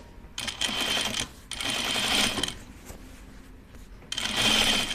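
Sewing machine understitching the facing of a dress in three long runs of fast, buzzing stitching with brief stops between, close and clear, no speech.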